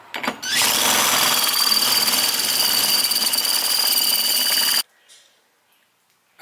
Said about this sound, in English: Now I just gotta drill this flange.